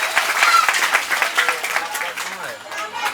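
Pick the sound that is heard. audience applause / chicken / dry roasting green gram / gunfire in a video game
audience applause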